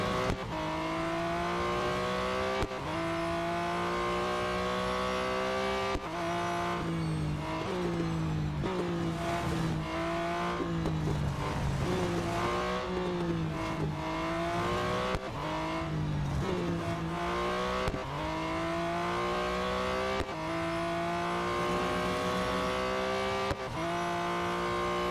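Race cars in Real Racing 3 rev and roar through gear changes, the engine pitch repeatedly climbing and dropping in sweeping cycles, loud and continuous with occasional tire noise.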